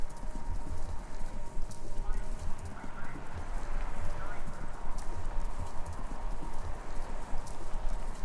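Horses running on a radio station in the video game Kentucky Route Zero, a steady, continuous clatter of galloping hoofbeats inside a wash of broadband noise, with voices faintly mixed underneath.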